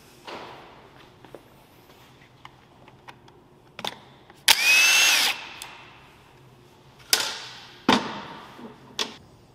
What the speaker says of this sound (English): I guess now we'll grab the T30 and we'll remove the